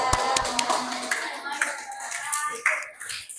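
A small group in a classroom claps in short, uneven bursts after a group presentation, with voices talking over and between the claps.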